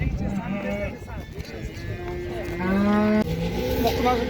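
At a livestock market in Uzynagash near Almaty, cows moo in long drawn calls, several overlapping nearby while people talk in the background.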